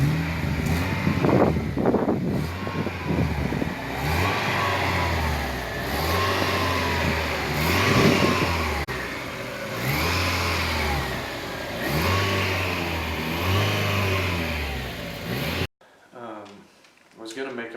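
A Mazda Miata engine revs repeatedly, a mid-pitched engine rising and falling in steady cycles, close and loud, with a person talking over it before it cuts off abruptly near the end.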